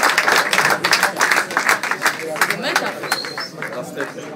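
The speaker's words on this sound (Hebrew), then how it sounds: "תנו לעצמכם כפיים" Crowd at a rap battle event clapping loudly and continuously, a dense burst of many hands with voices and cheering mixed in.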